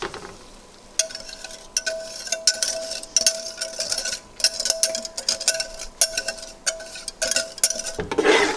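Egg halwa mixture stirred in a pan over low heat, a steady scraping and clinking of the spoon with soft sizzling underneath, repeated strokes close by and no talking.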